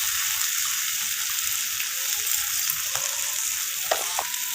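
Potatoes and vegetable stalks fry with spices in a pan, a steady close sizzle throughout with occasional scrapes and clinks from stirring.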